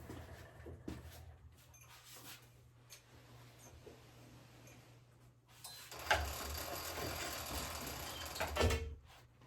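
Ratchet on a Gammill CS7 longarm quilting frame being cranked to turn the quilt, a run of mechanical clicks and clatter that grows louder in the second half over a steady low hum, with no talking.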